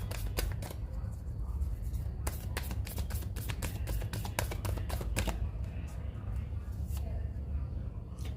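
Tarot cards shuffled by hand, a quick run of crisp riffling snaps in the middle over a steady low background hum, with someone speaking.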